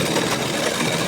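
A sewing machine runs a steady, fast stitch along a kurti shoulder seam, adding a second line of stitching for strength. The motor hum and needle chatter are continuous and close, with no talking.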